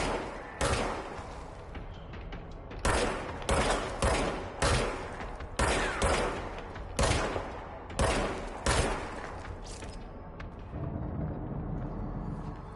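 Service weapon firing in the video game Control, a loud series of sharp heavy gunshots in short bursts with booming tails, then quieter rumbling near the end.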